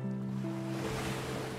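Ocean waves washing steadily along a shore, a continuous loud surf roar with a low steady hum underneath, no voices.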